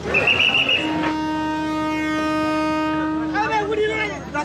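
A train horn blares as a long steady multi-tone blast from a train in Bangladesh, close and loud, with rail rumble underneath and a voice briefly heard at the end.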